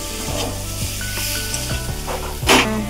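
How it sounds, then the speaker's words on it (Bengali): Pre-fried potatoes sizzle steadily in a hot pan while being stirred and sautéed, with several scraping strokes and a brief louder burst of crackling near the end. "ভেজে রাখা আলুটা দিয়ে দিতে হবে, ভালোভাবে কষিয়ে নিতে হবে।"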